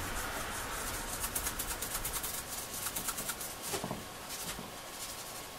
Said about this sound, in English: So I'd try the Brasso on this chrome trim. Just see if I can get some of this pitting off.